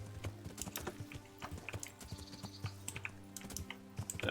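Rapid, faint clip-clop of a horse's hooves galloping up a steep hill in Kingdom Come: Deliverance, quick irregular thuds in a steady rhythm over a low hum; no speech.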